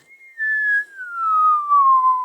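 A voice imitates a slide whistle, a steady whistled tone that slides slowly downward over about two seconds, clear and alone with no talking.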